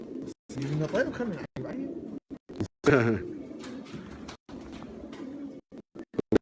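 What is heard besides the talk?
pigeons cooing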